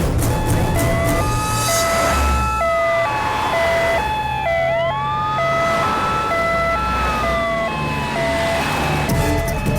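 An ambulance siren wails loudly, alternating two-tone calls mixed with rising and falling sweeps, continuous over traffic noise.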